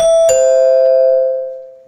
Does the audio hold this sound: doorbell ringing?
yes